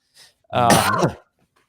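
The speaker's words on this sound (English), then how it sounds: "I coughed." A single person coughs once, a loud, close burst with a short faint sound just before it and quiet after, during a casual fantasy football podcast conversation.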